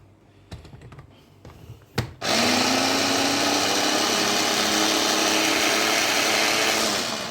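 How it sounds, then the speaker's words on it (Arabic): A few light clicks, then a blender blending Egyptian falafel (taameya) mixture roars to life and runs loudly and steadily, its whirring pitch climbing slightly as it spins. "لما نضرب في الخلاط دلوقتي"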